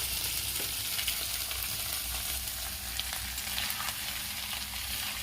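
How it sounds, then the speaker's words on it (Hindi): Steady, loud sizzling and crackling of food frying in hot oil on high flame, continuous throughout with no voices. "इसे मैं हाई फ्लेम पर भूनूंगी"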